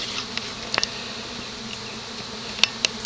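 Honey bees buzz around the cone of a PVC pipe trap during a trap-out, a steady swarm hum with a few louder individual bees darting close past.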